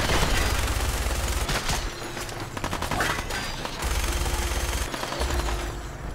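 Rapid bursts of gunfire in Fallout 4 crackle loudly in repeated volleys, with short pauses between the strings of shots.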